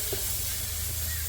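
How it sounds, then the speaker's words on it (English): Shrimp chow mein with ginger and garlic flash-fries over a wood-fire chulha in a garden, giving a close, steady sizzling hiss with a faint low crackle underneath, unbroken and with no talk. "We just wanted to flash fry or flash steam for a little bit."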